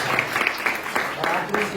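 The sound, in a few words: audience applause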